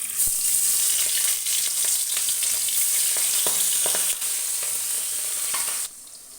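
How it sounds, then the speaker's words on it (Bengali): Singi fish (stinging catfish) frying in hot oil in a wok, a loud continuous crackling sizzle with scattered pops and spatters, dropping slightly in level near the end, no talking. "দেখতেই পাচ্ছ মাছগুলো কড়াইতে ছেড়ে দিয়েছি। এবার হালকা করে ভেজে নেব"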